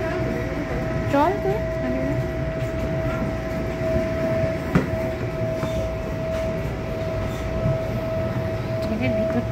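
A passenger train in Hunt Valley, USA, rumbles steadily nearby with a sustained whistle-like tone, under continuous background noise and occasional voices.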